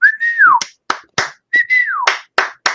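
A person whistles a bright sliding two-note phrase twice, close and loud, each followed by short sharp snaps or taps in an uneven rhythm.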